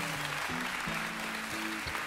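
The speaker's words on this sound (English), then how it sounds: "How about a praise clap for our Lord for meeting us here today?" A church congregation applauds in a dense, continuous wash of clapping, while a low tone swells and falls beneath it.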